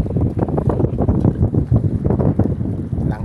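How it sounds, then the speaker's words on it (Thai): Strong wind gusts batter the microphone during a fishing outing on a hot day, a continuous low, rough roar with uneven surges and no voices. "อากาศร้อนแต่มันมีลมช่วยหน่อยลมแรงครับ"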